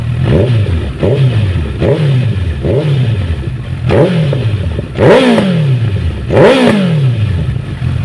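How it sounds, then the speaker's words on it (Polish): A 2014 Honda CBF1000 FA motorcycle with a louder exhaust partly blocked by a top case blips repeatedly, each rev rising and falling, with two louder, longer revs toward the end, close by. "mamy tutaj głośniejszy wydech, co prawda kuferek nam go zasłania, ale dajmy trochę gazu"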